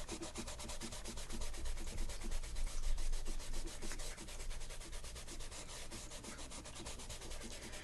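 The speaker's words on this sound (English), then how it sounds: "see how when I'm just smearing the charcoal, I'm putting a layer right on it already." Charcoal is rubbed and smeared across drawing paper in a continuous, soft, close scratchy hiss with slight rhythmic strokes, quiet and with no voices.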